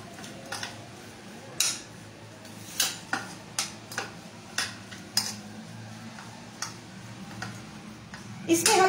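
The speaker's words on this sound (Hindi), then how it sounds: "अब हम इसको अच्छे से मिक्स करेंगे।" Ingredients for a cheese quesadilla are mixed in a bowl, with about a dozen sharp, irregular clinks and scrapes of a spoon against the bowl at moderate volume, close by and without talk.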